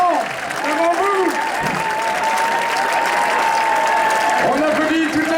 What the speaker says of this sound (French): On applaudit toute la troupe de la figuration, messieurs, dames.